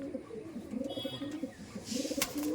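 Pakistani teddy pigeons cooing in a loft, a series of soft throaty coos repeating close by, with light chirps and brief noise bursts around them.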